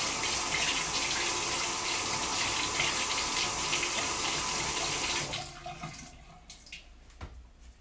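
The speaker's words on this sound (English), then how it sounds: "now let's get my perfector sponge wet" Tap water runs hard into a sink to wet a makeup perfector sponge, a steady close gush for about five seconds, then it cuts off, leaving a few drips and small handling sounds.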